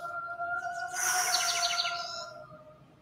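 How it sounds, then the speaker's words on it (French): Birds chirping outdoors, a burst of quick repeated tweeting notes over a low steady background hum, fairly soft and close, fading out after a couple of seconds. "là, les oiseaux qui traduisent l'émotion"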